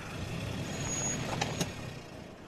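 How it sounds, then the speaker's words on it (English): A broken-down car engine in The Walking Dead video game runs rough and loud, a continuous low rumbling drone with a couple of brief sharper knocks near the middle. "This car doesn't sound good."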